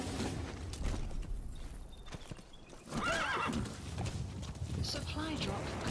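A horse's hooves clatter along as it gallops in the video game Metal Gear Solid V, and a loud whinny rings out partway through over a steady background.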